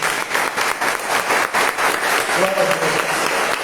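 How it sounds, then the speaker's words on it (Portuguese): Applause from a church congregation during a service, loud and sustained close clapping from a crowd, with a voice speaking over it. "Vamos aplaudir a palavra do Senhor."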